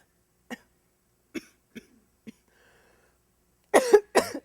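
Four short, separate coughs at irregular intervals, then two louder, heavier coughs close together near the end, with silence in between and no talk.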